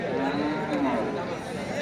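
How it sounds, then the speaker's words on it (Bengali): A large Sahiwal bull weighing several hundred kilograms lows once at a busy Eid cattle market, a drawn-out moo over a murmur of crowd chatter. "অনেক বড় গরুটা।"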